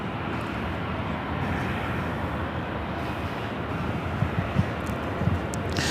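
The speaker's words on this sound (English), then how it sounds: "Air France Flight 23, looking like it's also a north side takeoff. The 777-300ER heading to Paris." Air France Boeing 777-300ER on its takeoff roll at LAX, a steady broad jet engine roar holding at moderate distance, with a few faint thumps near the end.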